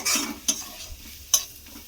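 Spices fry in a pan for a potato and sattu dish, giving a short burst of close sizzling with two crisp scrapes of a stirring spoon and no voices.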